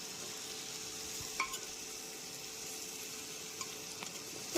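Vegetables being sautéed on an induction cooktop: papaya, potato, carrot and green chillies. A faint, steady sizzle carries a few soft spoon scrapes, with no voices.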